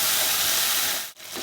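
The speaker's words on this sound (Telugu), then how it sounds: "10-15 ఉల్లిపాయలని అదే ఆయిల్లో వేసి" Hot oil hisses steadily as ten to fifteen onions fry with spring onion greens for a Chettinad onion pulusu, a dense close sizzle that dips briefly near the end.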